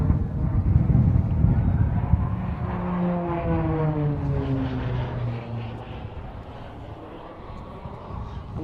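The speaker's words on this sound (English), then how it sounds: "we'll get a very good idea here of the power of the PC-9. It's with these vertical rolls" A Pilatus PC-9 turboprop flies vertical rolls at an air show, its engine tone sweeping up and down in long pitch glides, loud and steady over the full stretch and gradually easing toward the end.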